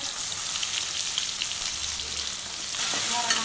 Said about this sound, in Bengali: এই তেলের মধ্যেই আবার আমি পেঁয়াজ কুচি দিয়ে দিলাম।